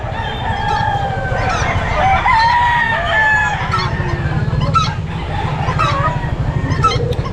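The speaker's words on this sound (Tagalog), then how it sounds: "Mga manok ang makikita nyo." Chickens and roosters at a crowded outdoor pet market cluck repeatedly with an occasional crow, close and fairly loud over a busy background murmur.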